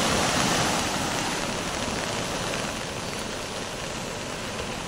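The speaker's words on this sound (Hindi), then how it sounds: "लगातार बारिश का दौर जारी है और 2 फीट तक पानी बस स्टैंड के यहाँ पर भर चुका है" Heavy rain with two feet of floodwater pooled at a bus stand, a dense, steady roar of falling and rushing water that fills the whole clip at even loudness with no voices.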